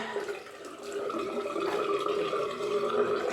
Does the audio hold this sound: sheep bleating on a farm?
no